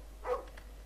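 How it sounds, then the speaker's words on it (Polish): A dog in the video game Lost gives a single short, soft bark over a low steady hum, fairly faint and quickly gone. "O, cześć piesio. Hey, dog!"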